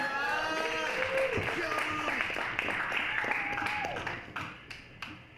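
A comedy club crowd applauds and cheers for comedian Shawn Singleton at a Valentine's showcase, sustained clapping that thins out toward the end while a host's voice carries over it.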